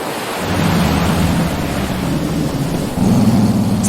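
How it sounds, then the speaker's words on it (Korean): Low, rolling roar of ocean surf with a windy rush, steady and fairly loud, swelling again near the end without any voices. "멀리서 파도 소리만 들릴 정도로 산속은 고요했다"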